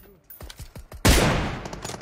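In PUBG Mobile, a few spaced, punchy gunshots lead into a loud blast-like burst that fades over a rough, crackling tail, with music and a rap vocal in the background.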